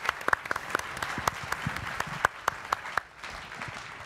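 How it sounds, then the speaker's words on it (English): Audience applause for a panel at an IoT leaders event, a modest crowd clapping with several distinct sharp near claps over a softer wash, dying away after about three seconds. "Round of applause."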